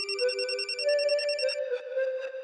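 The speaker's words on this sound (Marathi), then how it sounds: "घ्या आला फोन" A telephone rings with a bright, tonal, repeating ring that plays steadily and close, with no voices over it.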